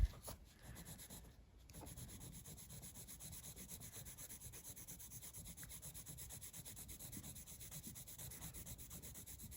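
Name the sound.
coloring on paper with a hot pink colored pencil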